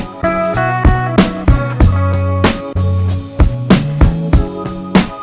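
A different programmed drum pattern plays back on an Akai MPC Renaissance, with steady hits, snappy snares and a held low bass note in a tight repeating loop, loud and alone without speech.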